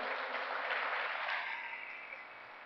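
A church congregation applauds at a Spanish-language service, a faint, muffled burst of clapping that fades out toward the end.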